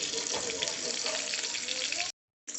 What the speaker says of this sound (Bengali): ফুলকপিটাকে একটু লাল করে হচ্ছে ভেজে নিচ্ছি। আর এই ফুলকপি আলুর দমটা সর্ষের তেলেই করব